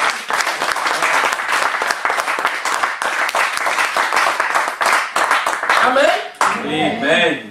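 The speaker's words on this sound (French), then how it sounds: "Acclame le Seigneur." A church congregation claps and cheers in acclaim of the Lord, dense sustained applause filling the room with voices mixed in, ending with a short spoken phrase.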